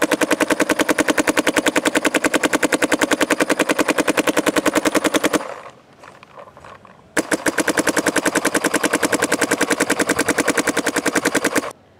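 A DLX Luxe X paintball marker fires a long, rapid, evenly spaced string of loud shots, pauses for about two seconds of quieter handling noise, then resumes the same fast volley.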